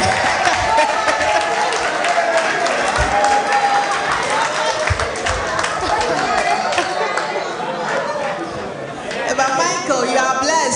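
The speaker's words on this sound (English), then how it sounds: "Your, your principal was happily clapping for you" Audience applause after a faculty masterclass presentation on content creation, steady clapping mixed with crowd chatter throughout, fairly loud and close, with voices talking over it.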